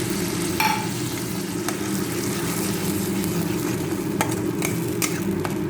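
Tomato paste made from blended tomatoes fries in a pan for a Bengali green peas masala curry, with a continuous even sizzle and occasional sharp scrapes of the spoon as it is stirred.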